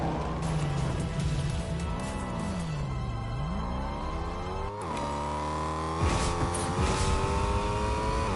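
A car engine drives and revs in the game Fortnite, loud and close, its pitch dipping and then climbing with acceleration, with a sharp shift partway through.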